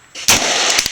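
A single sharp, loud AR-15 rifle shot fired at close range cracks out and leaves a brief ringing tail. A second faint report follows near the end.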